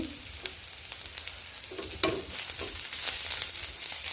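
Grated garlic and ginger frying in a pan for a bamboo shoot curry with hilsa fish head, a steady close sizzle with sharper crackles and a brief stirring clatter partway through, no talking.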